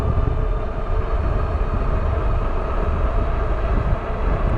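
A Wallke H6 electric fat tire bike at speed on throttle only, a loud, continuous rushing roar of wind and tire noise, steady and unbroken throughout.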